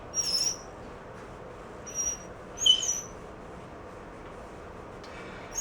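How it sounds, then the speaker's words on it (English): Three short, high-pitched chirps from an overtightened drive belt on a motorbike repeat at irregular intervals over a low steady mechanical hum, faint and fairly close. "My belt's too tight, that's what you hear in chirp."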